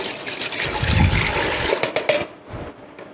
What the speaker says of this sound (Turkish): Yani suyunu ilave ediyoruz.